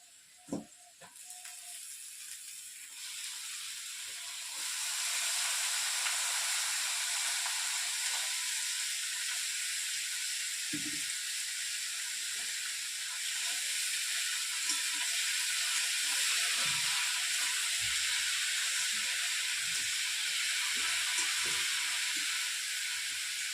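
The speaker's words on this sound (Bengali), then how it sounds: "আলুটা কষে নিয়েছি এবার লাউগুলো দিয়ে দিই" Bottle gourd tipped into a pan of frying potatoes bursts into a loud, steady hiss of sizzling that holds for the rest of the stretch, with scattered soft knocks of a utensil underneath and no talk.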